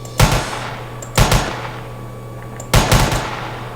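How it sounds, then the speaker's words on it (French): Sniper rifle fire from a 3D gun mod in Minecraft: three loud, punchy shots with short decaying tails, spaced about a second or more apart, over a low steady game hum. "Donc lui c'est mon préféré avec le sniper. Il a un beau bruit aussi."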